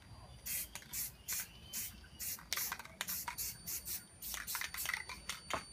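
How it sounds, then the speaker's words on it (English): Spray paint can hissing out black paint in short repeated bursts, each spray loud and close, broken by brief pauses in an uneven rhythm. "So basically, spray whatever color you want. I like to spray some white, but you can do it in black too."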